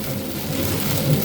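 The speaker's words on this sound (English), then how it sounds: "yeah, we're really getting rain here." Rain falls on a van moving along a highway across Illinois, a steady wash of hiss and road rumble. It is close and even, with no voices, over a brief stretch.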